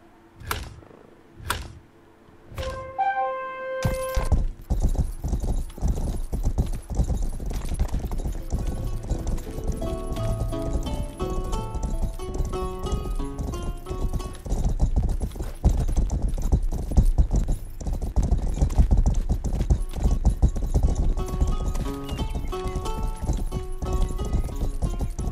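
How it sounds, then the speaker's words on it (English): Horse hooves clip-clop steadily at a riding pace in the PC video game Rustler, the rhythmic clatter running continuously and close up, with occasional whinnies and game music layered over it. "Let's do a horse riding activity."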